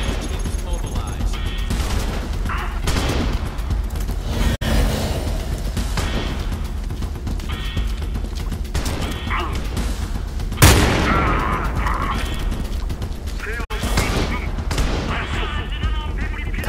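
Gunfire in the video game Homefront: The Revolution, a dense ongoing battle bed with repeated shots, a few sharp louder cracks and booms over constant background noise.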